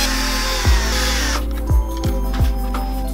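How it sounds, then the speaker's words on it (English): A power drill pre-drills screw holes with a threaded bit for a car door speaker during a Ford Raptor stereo install: several short whirring bursts that wind down, each ending in a thump, close and loud. "That means we're gonna pre-drill our holes. We'll use a bit with the threads already on them."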